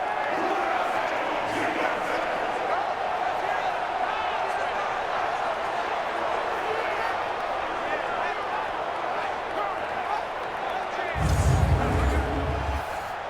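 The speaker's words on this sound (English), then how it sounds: "The crowd here in the Dome making things difficult." Simulated dome stadium crowd noise in Madden 20 during an Eagles at Saints game: a continuous loud roar under play-by-play commentary, with a short heavy thud near the end.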